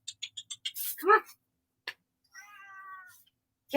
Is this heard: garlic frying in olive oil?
no